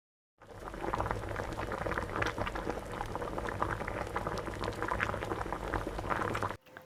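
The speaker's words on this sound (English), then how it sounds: "my water has boiled and we have to cook the ugali" Water boils in a pot for ugali, a steady close bubbling and rolling churn that starts after a brief silence and cuts off sharply at the end.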